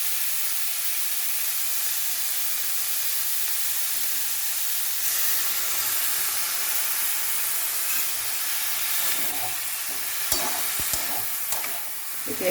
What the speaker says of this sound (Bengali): এই মশলাটা দিয়ে দেবো, আদা, জিরে আর হলুদ।